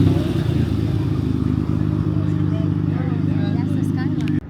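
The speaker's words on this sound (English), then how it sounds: "R32 GTR rolling out." A Nissan R32 GT-R with an all-wheel-drive six-cylinder hybrid-turbo engine rolls out at a car meet, its loud steady engine drone close by and cutting off abruptly near the end, with crowd chatter around it.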